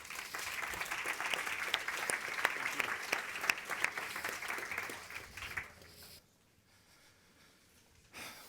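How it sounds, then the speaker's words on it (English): An audience applauds to welcome a speaker at an alumni forum, with steady clapping for about six seconds before it fades to near silence and a brief sound returns at the end. "Please give him a warm round of applause."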